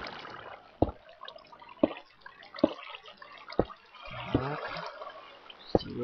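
Water flowing in the video game Minecraft, heard as a soft, continuous trickle with regular sharp clicks of blocks being placed, quiet and without talking.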